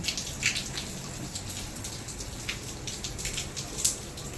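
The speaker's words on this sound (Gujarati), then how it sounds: "અમારે તો વરસાદ શરૂ થઈ ગયો છે" Rain falls outdoors as a soft, steady patter, with scattered sharper drops striking a nearby surface and no voices.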